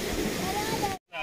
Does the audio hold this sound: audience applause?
no